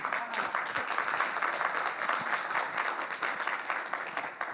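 Listeners at a Django conference talk applaud in a full, continuous round of clapping with crisp individual claps, moderately loud and steady to the end.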